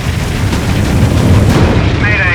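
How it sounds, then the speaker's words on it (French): An explosion on the Piper Alpha oil platform in the North Sea roars as a loud, deep, sustained rumbling blast, close and heavy, fading slightly at the end. "Mayday, il y a une explosion sur le Piper Alpha."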